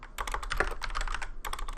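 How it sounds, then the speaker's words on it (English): Rapid, continuous clicking on a computer keyboard, close and steady over a low hum, with a brief pause near the end before the tapping resumes. "I'm gonna work on my typing skills here"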